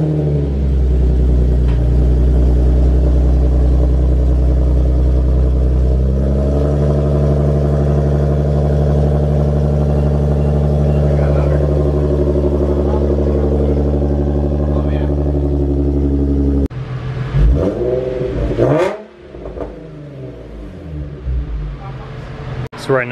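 A Nissan 370Z with a new Motordyne arc pipe exhaust idles loud and close, a deep steady rumble that shifts in pitch partway through, then rising revs with clunks near the end.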